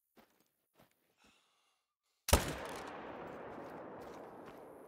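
A single loud rifle shot while hunting in theHunter: Call of the Wild, one sharp crack after near silence, followed by a long rolling echo that fades slowly.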